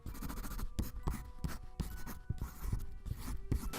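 Pens scratching quickly across paper as a group of people write at once, a steady busy rustle with scattered taps and strokes, fairly close and continuous with no talking.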